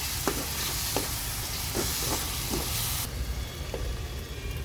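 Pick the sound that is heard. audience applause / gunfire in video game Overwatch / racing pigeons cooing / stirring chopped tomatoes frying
stirring chopped tomatoes frying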